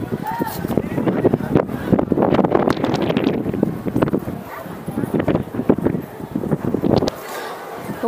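Strong wind at the Vivekananda Memorial in Kanyakumari buffets the microphone in heavy gusts that rise and fall, while people talk nearby.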